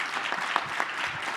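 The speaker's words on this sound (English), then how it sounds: "if we could give a huge round of applause to Kim and Fatima." Steady applause from a modest crowd, even and moderately loud, with no voices over it.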